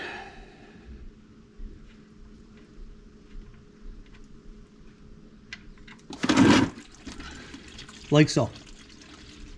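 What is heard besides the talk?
engine oil draining from 2022 Toyota Tundra oil pan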